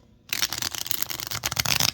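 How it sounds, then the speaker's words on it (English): Tiny tarot cards are shuffled close up, a quick rapid flutter of riffling paper that starts abruptly after a moment of quiet and keeps going. "I'm already starting to shuffle these"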